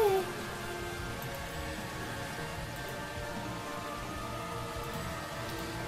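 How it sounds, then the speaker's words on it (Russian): Steady acid rain in the Roblox game Horrific Housing, hissing and pattering continuously, with a faint tonal hum from game music beneath it. "О, кислотный дождь! Аллилуйя! Дождь из кислоты!"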